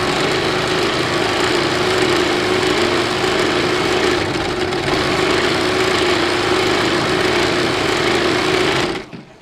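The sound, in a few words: sewing machine stitching a seam on a sleeve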